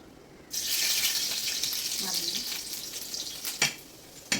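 Garlic frying in hot oil in a pan, added right after mustard seeds have popped, while cooking an ivy gourd stir-fry: a steady close sizzle that starts abruptly and holds, with a few sharper crackles and spatters near the end.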